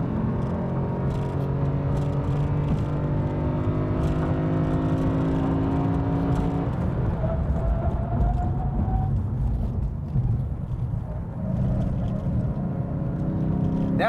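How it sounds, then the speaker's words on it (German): Lexus RC F Track Edition V8 engine on track in Sport Plus mode, revving hard toward the limiter with a steady droning tone, then a shift that drops the pitch before the engine pulls again. "Ging auch gerade kurz in den Begrenzer rein, bevor er hochgeschaltet hat"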